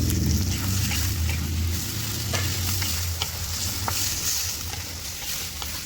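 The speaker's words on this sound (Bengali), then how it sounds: "আমার টমেটো আর পেঁয়াজ কিন্তু অনেকটা ভাজা হয়ে গেছে।" Onion and tomato fry in a pan with a busy crackling sizzle and repeated scraping and stirring strokes of a spatula, close and steady throughout.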